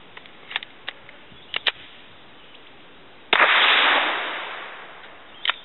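Suppressed Glock 9mm pistol fires one supersonic round, a sharp crack with a short decaying wash, preceded by small handling clicks and followed by another faint click.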